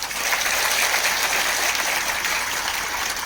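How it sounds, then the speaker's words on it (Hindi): Steady, full applause from a crowd for Apollo hospital officials, a dense continuous patter of many hands clapping without a break. "प्लीज इनके लिए बहुत बड़ा ताली दीजिए"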